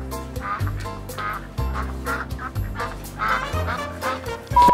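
Comic duck quacking plays as a sound effect, a run of rhythmic nasal quacks repeated over a low pulsing backing, loud and close with no talk.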